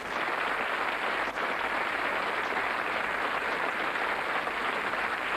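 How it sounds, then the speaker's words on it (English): Studio audience of the British darts quiz show Bullseye applauding the contestants, a continuous broadband wash of clapping held steady for several seconds with no talk over it. "Give them a round of applause."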